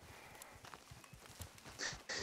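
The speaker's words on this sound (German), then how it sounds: "Ich hole jetzt mein Pferd her." A horse's hooves clip-clop quietly and steadily in the Red Dead video game, followed by two louder bursts of noise near the end.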